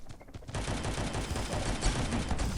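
Rapid automatic gunfire from the mobile shooter game Gods of Boom, a sustained dense fusillade of overlapping shots that starts abruptly after a brief quiet moment and stays loud and continuous.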